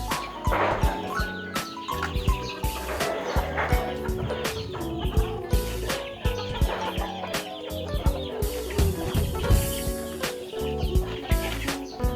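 Chickens cluck busily while pecking at feed in a Filipino poultry pen, with a dense, continuous chorus of overlapping calls from a flock close by.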